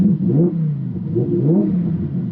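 Engine of a Lamborghini Huracan revving in park, rising and falling twice in quick throttle blips, loud and close with no talk.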